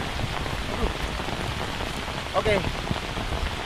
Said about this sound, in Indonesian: ini hujan dan cuaca benar-benar nggak bisa bersahabat hari ini